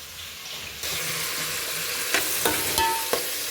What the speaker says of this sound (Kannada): ಇವತ್ತು ನಮ್ಮ ಮನೇಲಿ ಸಾವಿಗೆ ಉಪ್ಪಿಟ್ಟು ಮಾಡೋಣ ಅಂದ್ಬಿಟ್ಟು ಒಗ್ಗರಣೆ ಮಾಡ್ತಾಯಿದ್ದೀನಿ